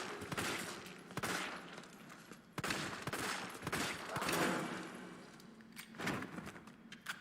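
Gunfire rings out in Resident Evil 3 (2020), a string of loud, sharp shots spaced irregularly, some in quick pairs, with reverberant tails and no voices.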